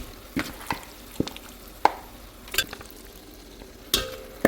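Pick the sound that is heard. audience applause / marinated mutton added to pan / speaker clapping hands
marinated mutton added to pan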